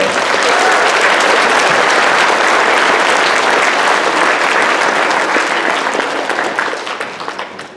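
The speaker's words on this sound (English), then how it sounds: "How about a big round of applause for Mrs. Hakel?" A school concert audience applauds the principal with loud, dense, sustained clapping that holds strong for several seconds before tapering off near the end.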